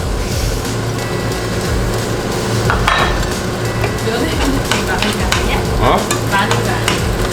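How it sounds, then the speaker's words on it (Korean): A generous heap of chopped garlic fries in oil left from searing black pork, giving a dense, continuous sizzle with scraping stirs and occasional utensil clinks, no talking over it. "그 오일을 다 넣어주세요 40분간 후추만 좀뺄게요 그리고 잘라놨던 마늘을 과감하게 많이 넣어주겠습니다"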